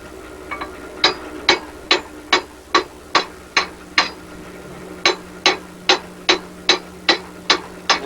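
A blacksmith hammers hot metal around a mandrel set in the anvil, giving about sixteen sharp, ringing metallic strikes in a steady rhythm, close and loud, with a few softer taps at the start.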